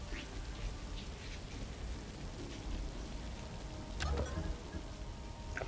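Steady rain falling on a car park in the video game Phantom Doctrine, an even wash of patter that continues throughout, with a brief louder rumble near the end.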